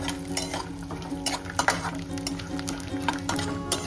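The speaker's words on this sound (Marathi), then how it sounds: "छान असं भाजून घ्यायचं तुपात." Charoli nuts frying in hot ghee in a heated pan, a steady sizzle with spoon stirring and scraping against the metal, close and continuous.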